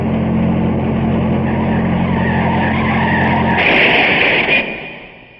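A car skidding across a road at night, crossing the center line and plowing into a palm tree in a crash, heard as a loud, sustained engine roar and tire scrub that swells into a harsh burst before fading away.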